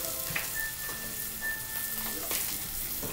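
Vegan butter melting in a pot, a steady, close, even sizzle with a faint high tone running through it and no talking.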